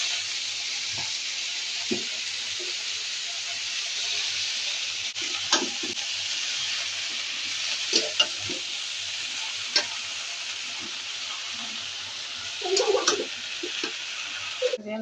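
Red spinach sizzling steadily in hot oil in a pan with a couple of green chillies, broken by occasional scraping stirs of a spatula, close and continuous with no talk.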